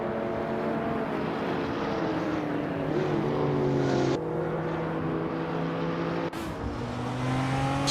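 A 2002 Suzuki Liana driving in a racing video game, its engine humming at a steady pitch with brief shifts and abrupt cuts as it cruises, the drone loud and continuous throughout.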